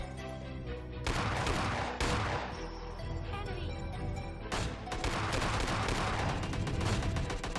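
In a mobile battle game, AWM sniper gunfire and other shots boom loudly amid dense explosive game sounds, with sharp reports near 1 s, 2 s and 4.5 s over a constant noisy background.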